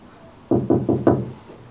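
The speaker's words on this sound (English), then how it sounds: "I hear knocking at the south entry." Four quick knocks at a wooden door at a castle's south entry, close and fairly loud in an even rhythm, then a faint fifth tap, heard alone over quiet room noise.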